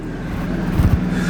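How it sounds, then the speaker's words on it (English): A car engine idles just after starting on a hot day in Florida, a low steady rumble with a brief rise in throb near the end, close and alone without talk. "I just turned the car on."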